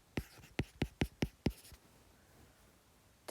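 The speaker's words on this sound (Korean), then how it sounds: "제 식을 써볼게요" Pen on paper writing out a math equation: about eight quick, sharp taps and strokes in an uneven rhythm at close range, followed by near silence.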